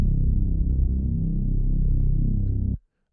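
A thick, low Reese bass synth throbs steadily through a trance build-up, then cuts off abruptly near the end.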